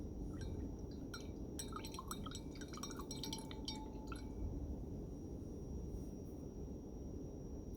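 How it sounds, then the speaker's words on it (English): Pepper being mixed into water, a quick cluster of light clinks and small splashy taps like a spoon against a glass, then quiet background hiss with no talking. "What happens when we mix pepper with water?"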